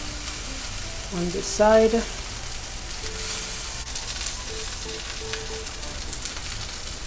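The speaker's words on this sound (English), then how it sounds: "we're just letting that sear" A rack of lamb sears in a hot pan, crackling and sizzling steadily throughout, while someone speaks briefly over it and a short clatter of handling sounds early on.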